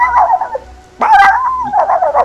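A person imitates a dog, voicing a short yapping bark followed by a higher puppy-like yelp, close and loud with brief gaps between sounds.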